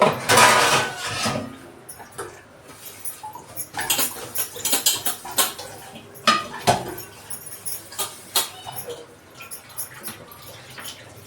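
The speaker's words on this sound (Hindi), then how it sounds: "ऐसे कम कम से मैं बर्तन धो लेती हूँ।" Dishes being washed by hand under a weak trickle of tap water, with scattered clinks and scraping of utensils and soft splashing, a voice speaking at moments over the clatter.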